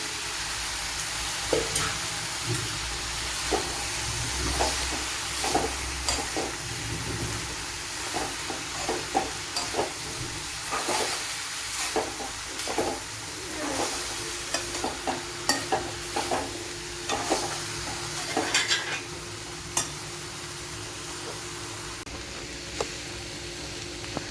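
Boiled tapioca (kappa) being stir-fried in a pan for a Kerala tapioca ularthiyathu, with a steady sizzle and repeated scraping clatters of a spatula stirring through the pieces, near and alone without talk.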